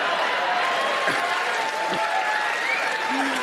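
A stand-up comedy audience applauds steadily and loudly, a dense crowd clapping with some cheering and chatter mixed in throughout.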